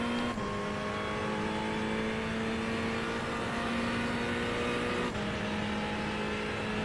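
A race car engine drones loudly and steadily on the last lap, its pitch holding near constant, with a brief dip just after the start and another around the five-second mark.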